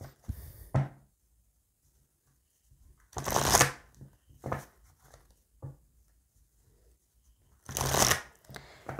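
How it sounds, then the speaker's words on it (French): Oracle cards for a tarot reading being shuffled by hand in three close, crisp bursts with quiet pauses and small taps between them. "on va aller voir avec l'oracle d'Annabella. Donc, pareil, on va aller voir à la coupe"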